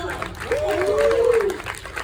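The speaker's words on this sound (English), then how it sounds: "leave me a round of applause for that band and like Greg and Kim." Audience applause for a band at a summit event, a short burst of crowd clapping under a speaking voice, moderately loud and fading toward the end.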